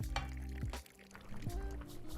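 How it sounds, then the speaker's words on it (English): Boiling water is poured into a pan of mutton cashew curry, a short splashing pour lasting about two seconds, heard close over a steady low hum from the kitchen. "Let's add in the boiling water."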